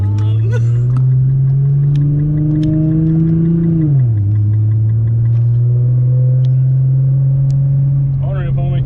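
A Dodge Viper ACR running on 71% ethanol drones loudly and steadily from inside the cabin, engine note climbing gradually, dipping as a gear changes, then building again, with a brief burst of speech near the end.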